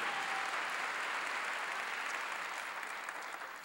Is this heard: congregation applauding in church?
yes